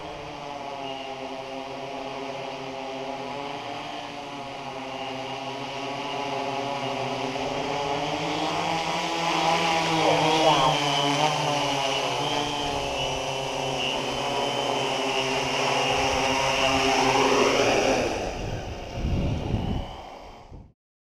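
A drone flies fast circuits near a tree, its rotor buzz rising and falling in pitch as it sweeps past, staying fairly loud before dropping away abruptly at the end.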